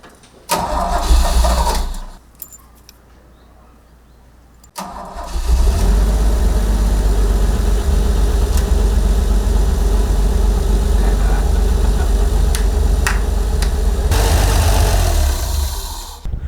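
A vintage car engine gives a loud, close start with a brief roar, falls quiet for a moment, then cranks and catches again before settling into a steady idle that runs to the end.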